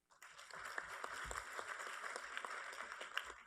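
Steady audience clapping fills a hall during introductions at a CSU Academic Senate panel, a dense even wash of applause heard from a distance for several seconds.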